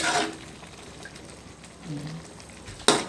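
Squash and string beans simmer in a pan with oyster sauce and added water, a soft steady sizzle and bubble, with a louder stir or clatter at the start and another sharp one near the end.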